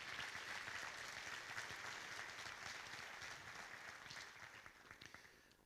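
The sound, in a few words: audience applause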